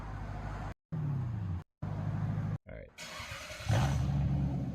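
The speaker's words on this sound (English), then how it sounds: "You get that deep guttural V8 noise, that 4-liter V8" Deep, guttural rumble of a 4-liter V8 in a Lexus GS (1998-2005) with the exhaust valves open, idling and revving in short bursts broken by gaps, swelling louder near the end.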